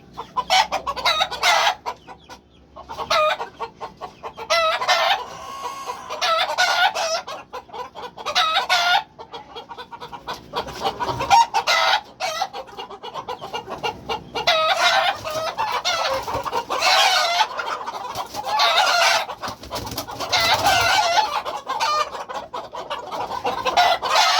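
Two white fighting roosters, a male and a female breeding pair, cluck and call in repeated bursts at close range, with short pauses between and no talking.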